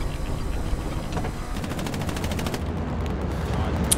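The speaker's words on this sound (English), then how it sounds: "Is that a machine gun?" Sustained automatic machine gun fire in the World War II shooter Hell Let Loose, rapid bursts rattling continuously under and over other battle noise for the whole stretch.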